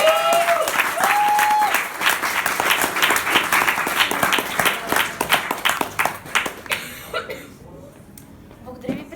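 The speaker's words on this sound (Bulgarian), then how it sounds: "Моля за вашите аплодисменти за най-новият сеньор в България" Applause from an audience at a Bulgarian Fast Start training event, dense clapping filling the room for several seconds before thinning into scattered claps and a few coughs; some voices and tonal sounds near the start.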